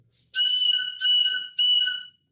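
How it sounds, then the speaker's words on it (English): A ceremonial eagle whistle is blown three times in a row, each a loud, clear, piercing tone lasting about half a second with short gaps between, heard alone with no talk. "Well, some of these whistles are used in ceremony."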